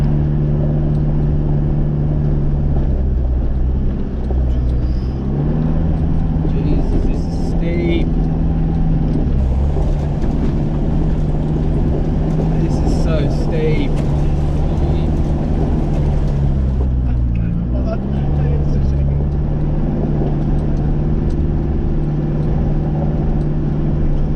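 A 4WD vehicle crawls up a steep hill in remote bush, its engine a steady low droning rumble with shifting pitch as the load changes, loud and close from inside the cab, with people talking over it.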